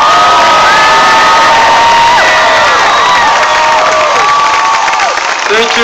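A large outdoor rally crowd cheers, whoops and applauds continuously and loudly, with shrill shouts and whistles rising above the roar.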